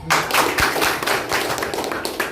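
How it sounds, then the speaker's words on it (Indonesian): Applause from an audience at a business motivation gathering, a short burst of dense clapping that carries on steadily for a couple of seconds, fairly close and alone. "Oke, beri aplaus."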